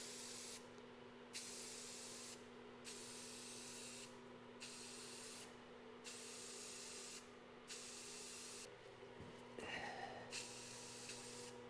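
Spray paint going on in a light first coat over parts, repeated steady hissing bursts of about a second each with short pauses between, close and even, no one speaking.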